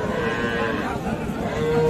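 A dairy cow with her calf lows at a busy cattle market, one close, drawn-out moo with faint crowd noise beneath.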